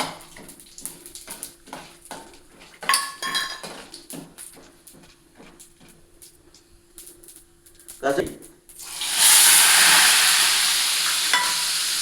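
Poppy seeds, with cardamom, frying in oil in a pan for chicken kurma, with scattered stirring and clatter followed by a loud burst of sizzling that persists; a person talks throughout the quieter first part.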